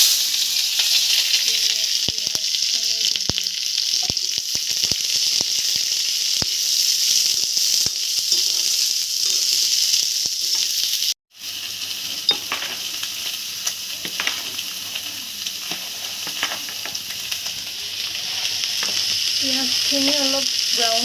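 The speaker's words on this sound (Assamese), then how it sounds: "আলুখিনি ফ্ৰাই কৰি ল'লে অলপ ব্ৰাউন কালাৰ হ'বগৈ লাগিব" Potatoes fry in a hot pan with a dense, steady sizzle, broken once by a brief cut before the frying resumes just as loud.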